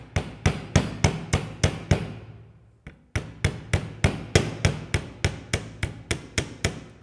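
A hammer strikes the edges of a wire jewellery spiral in steady, close, sharp taps, about a dozen, then a short pause and another long even run of ringing blows, with no talk.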